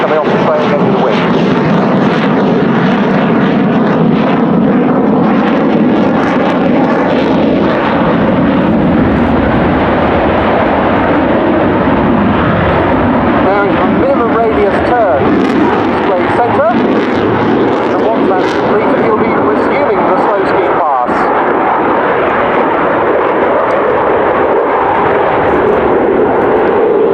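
A Belgian Air Force F-16 roars through a flying display at RIAT 2017, a loud, sustained jet rumble filling the air throughout while someone talks over it.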